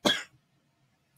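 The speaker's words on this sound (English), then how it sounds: "I knew I was going to get out of here without coughing." A single short, sharp cough bursts out close to the microphone at the end of a craft tutorial, followed by near silence.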